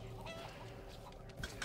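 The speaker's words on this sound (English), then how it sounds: "Chicken, shut the fuck up, you chickeness. That chicken is just glitching out." Chicken in Resident Evil 4 Remake clucking in short bursts over a steady game ambience, with a louder cluck near the end.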